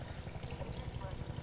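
Water runs steadily through a sewer in the video game Half-Life 2, a faint continuous pouring and trickling with no breaks.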